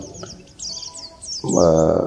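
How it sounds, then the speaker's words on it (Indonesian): A male pleci (white-eye) sings in a hanging breeding cage, giving a series of high, quick chirping phrases, joined near the end by a louder, fuller burst of calls. "Pleci betina akan memperhatikan kicauan sang jantan."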